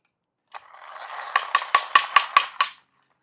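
A welded winch fitted with a brake ratchets up, giving a run of about eight crisp metallic clicks. The clicks come faster and louder toward the end, then stop.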